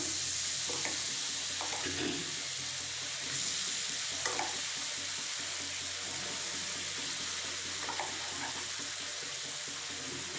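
Spice paste with Kashmiri chili fries over a low gas flame, giving a constant close hiss and crackle with occasional soft scraping as it is stirred, with no voices present.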